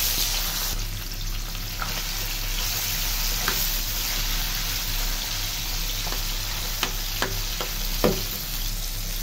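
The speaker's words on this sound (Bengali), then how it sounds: "মাছগুলো তেলে দিয়ে দিই, গরম তেলে সবগুলো দিয়ে দিই।" Fish frying in a pan of hot oil gives a steady, close sizzle with a few sharp pops and crackles scattered through, and no voices.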